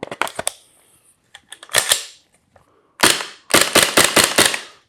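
An APC9 gas airsoft gun fires sharp, loud snapping shots, a few scattered singles early and then a quick run of about half a dozen close together, each cracking alone with no talk.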